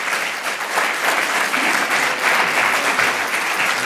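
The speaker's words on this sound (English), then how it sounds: "big round of applause for Jules Spinatsch." Audience applause welcoming a speaker onto the stage at the E.A.T. 2026 event, a steady, dense clapping from a crowd that stays loud and even throughout.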